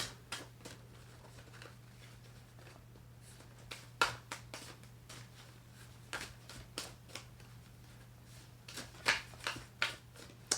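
Repeated crisp riffling bursts of tarot cards being shuffled, fairly close, with a steady low hum underneath and no talking.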